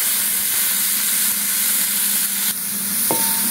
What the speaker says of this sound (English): Now I have preheated the pan and the oil also. First of all, we'll add this onion.